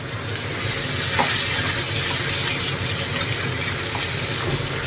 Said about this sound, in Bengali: তো দেখো বন্ধুরা, ফাইনালি পোটটা এখন ফ্রাই হচ্ছে।